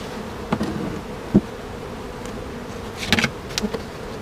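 Honeybees buzz while a colony is moved from a five-frame box into a ten-frame hive. The buzzing is soft and intermittent, with a few louder close passes and short bursts over a quiet background.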